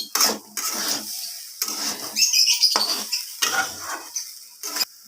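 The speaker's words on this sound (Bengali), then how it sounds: "আবারও সব কিছু এইভাবে ভালোভাবে নাড়িয়ে চাড়িয়ে নিতে হবে" Khichuri being stirred in a pot, a spoon scraping and clattering against the metal in repeated bursts with brief pauses, close and fairly loud with no voices.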